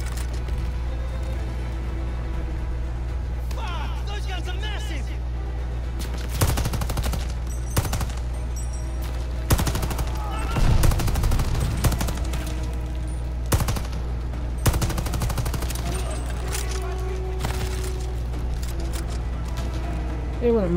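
Bursts of heavy machine gun fire in the shooter game Call of Duty Vanguard ring out repeatedly over a constant low drone, loud and close, with voices talking in between.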